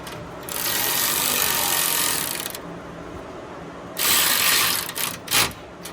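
A ratchet tightening a fan mount on a GMT800 truck, long runs of rapid clicking close by, one sustained burst, a pause, then another burst and a few short final pulls.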